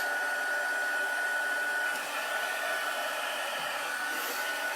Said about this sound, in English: And I'm going to turn on my heat tool.